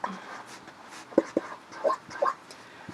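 Pen or marker writing out a math problem, heard as a few short scratchy strokes in separate bursts, close and fairly quiet, with no talk.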